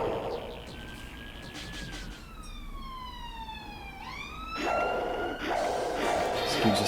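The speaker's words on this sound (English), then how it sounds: "Excuse the sirens blaring." Police-style sirens blare outside, a wailing tone sweeping down and back up with a second siren layered in, moderately distant and fairly quiet, set against background noise.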